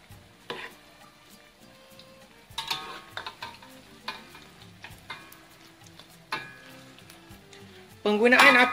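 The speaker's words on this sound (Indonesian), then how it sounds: "Wan akan goreng sehingga adunan cekodok ni masak sepenuhnya dan bertukar kepada warna kuning" Dried black mushroom fritter batter fries in a pan over a moderate gas flame, giving a low, steady sizzle broken by scattered clicks and scrapes of a utensil against the pan and a louder burst of crackling near the end.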